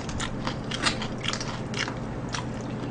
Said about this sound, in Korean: 진짜 바삭한 치킨이야 이름대로 튀김 옷에 양념 좀 짭조름하게 간도 돼 있어가지고